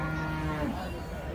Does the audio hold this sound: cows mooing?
yes